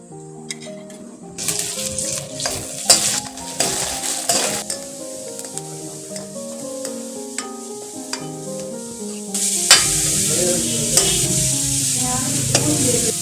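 Crushed green chili and crushed garlic fry in a pan, a bright sizzle with stirring scrapes and metallic clinks, growing louder toward the end over melodic background music.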